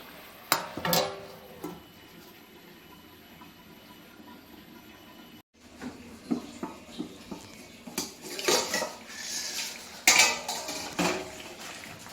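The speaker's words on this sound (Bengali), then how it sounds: "চিকেন আলুর ঝোল একটু ঢাকা দিয়ে রাখি হতে থাক" Pot and lid clatter while covering a simmering chicken and potato curry in a home kitchen, sharp metallic clinks and knocks at irregular intervals with a short silent gap midway, close and fairly loud.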